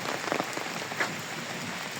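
Steady rain patters on leaves and ground in a pine forest, a soft even hiss with a few closer drops and no voices.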